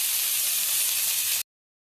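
Half a cup of chopped onion sizzling in hot frying oil for a salted hilsa and eggplant curry, a loud steady hiss that stops abruptly.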